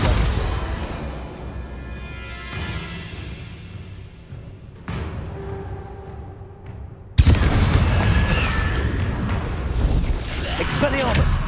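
Confringo blasting spells burst in the Hogwarts Legacy video game, several booming impacts with the loudest one sharp and close partway through, each trailing off into rumbling noise over wind-like background.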